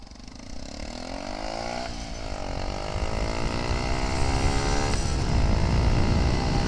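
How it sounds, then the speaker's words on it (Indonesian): Motorcycle fitted with a racing exhaust taken from a KLX, its engine droning steadily and rising in pitch with revs, growing gradually louder as it runs close by at a fuel station. "Gua ini menggunakan knalpot racing, men. Jadi ini tuh copotan dari motor KLX, ya kan ya."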